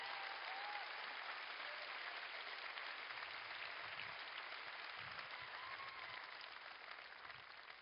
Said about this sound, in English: We would like to give a very generous round of applause for our faithful and fearless crew